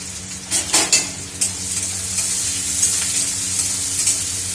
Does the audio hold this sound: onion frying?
yes